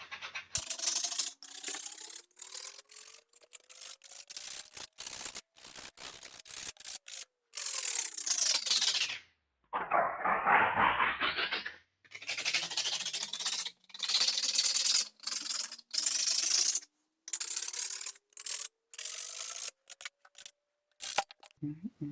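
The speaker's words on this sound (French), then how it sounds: "tu vas pouvoir poncer le leurre pour le désépaissir, particulièrement au niveau de la tête et de la queue" A handmade wooden perch fishing lure is sanded down at the head and tail with a rotary tool, giving bursts of high whining grinding that rise and fall in pitch, broken by short gaps, close and without talk.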